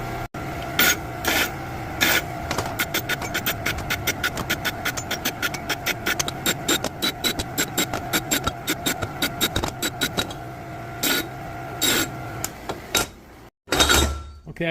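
Hand deburring of a metal rod with a file: quick, rhythmic rasping strokes repeat for about thirteen seconds, close and crisp, ending in a short burst of clatter.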